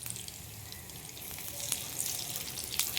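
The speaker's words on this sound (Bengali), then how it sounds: "এইভাবে আমি কুমড়োগুলো ভেজে নেব।" Pumpkin fritters fry in a pan over low heat, giving a faint, steady hiss with a few soft crackles that grow slightly stronger toward the end.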